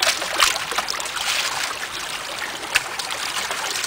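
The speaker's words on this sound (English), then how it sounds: "Slosh this around and make sure the bucket's nice and clean." Water sloshing around in a bucket while gold concentrates are rinsed and classified to quarter-inch, a steady splashing wash with a few sharper splashes, close and continuous.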